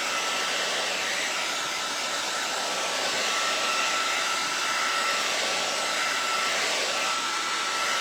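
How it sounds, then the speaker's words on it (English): Hot hair dryer blowing steadily to dry paint on a wooden piece, a loud constant whooshing hum that runs unchanged throughout with no talk. "Nice hot dryer makes it work quicker."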